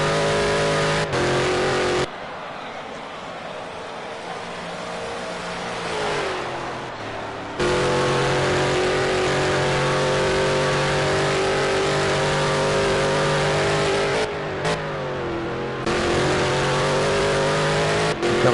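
A Corvette race car on the Road America circuit accelerates hard, its engine roaring loud and steady with rising pitch through the gears, dropping briefly between shifts, with no talk over it.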